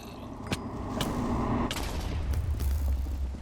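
Creeper explosions in Minecraft Hardcore going off as several sharp booming bursts about half a second apart, each trailing into low rumbling over continuous noise.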